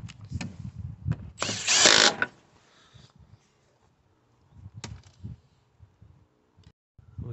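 On a Peugeot Boxer, Fiat Ducato or Citroen Relay van, a power tool drives the fuel filter housing bolt home in one loud, close whirring burst. Quieter ratcheting clicks and knocks come before and after it, with stretches of near silence.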